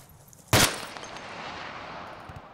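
A single sharp, loud gunshot bursts out in the ARMA 2 video game, then fades into a long echoing tail and quiet background rumble.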